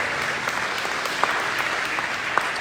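An audience claps steadily at a district breakfast event, a dense wash of many hands with a few sharper claps standing out, with no voices over it.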